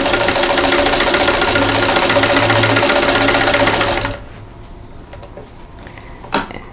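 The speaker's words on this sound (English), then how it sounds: "So I'm going to sew on this dotted line, on this drawn line." A sewing machine runs steadily for about four seconds, stitching along the drawn line of a quilt block, then stops, leaving quiet handling noises and one brief knock near the end.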